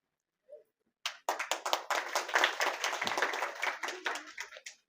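Audience applause at a mother-honoring award ceremony, sparse claps at first then a steady, fairly close burst of many hands clapping for several seconds.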